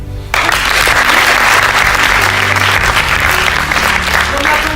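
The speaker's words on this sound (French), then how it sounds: "On peut les applaudir." An audience applauds loudly and steadily at an inter-school eloquence contest, a dense wash of clapping that starts abruptly and continues throughout.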